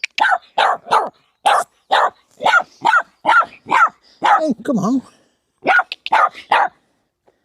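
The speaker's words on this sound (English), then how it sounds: "what's all the barking for?" A dog barks close by in a quick run of about a dozen sharp barks, some with a whining, yelping edge, on a walk along a worn path near an empty reservoir, while someone briefly speaks to it.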